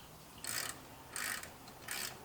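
A ratchet wrench at work reinstalling a brake caliper on an AE86: three short bursts of close, quiet ratcheting clicks, evenly spaced over a couple of seconds against a faint background hiss.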